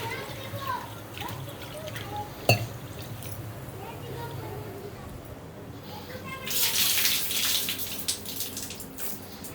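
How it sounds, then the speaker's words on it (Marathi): Toor dal lentils being washed in water, with splashing and sloshing that grows to a louder, rushing burst near the end; someone talks over the sounds, and there is a sharp knock early on. "ही डाळ पण स्वच्छ धुवून घेते."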